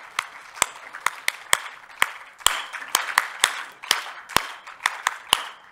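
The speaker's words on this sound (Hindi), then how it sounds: "जोरदार तालियों से जैसे मैंने बताया तालियां हम वैसे बजाएं" Sparse, sharp handclaps at a festival ring out at an uneven pace, roughly a dozen distinct claps over a few seconds, with no steady roar of a crowd.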